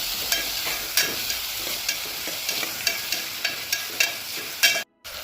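A spoon stirs quick masala rice with tomatoes in a pan, scraping at a regular rhythm over a soft, steady sizzle, close and without talk.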